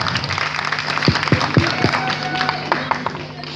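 Brief clapping from a classroom group cheering team C after a quiz answer, a few loud individual claps standing out over a steady background of murmur and hum, fading into scattered noise.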